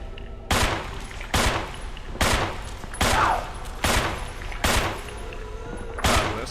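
Gunfire in Resident Evil 1 played on PS5, with seven loud, evenly spaced single shots about a second apart, each with a short echoing tail, and no talking.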